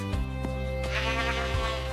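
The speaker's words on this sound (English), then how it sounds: "It is a sheep standing there by itself." A sheep standing alone on a farm bleats a few times, a near, steady cry with harmonic tone and short breaks, with no talking over it.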